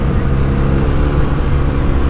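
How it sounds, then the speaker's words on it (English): A Jaguar F-Type with its second exhaust opened gives a deep, loud, steady rumbling drone, heard close and continuous with no talk over it. "So there's some fruity noises coming out of that Jag."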